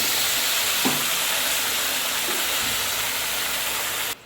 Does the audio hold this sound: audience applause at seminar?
no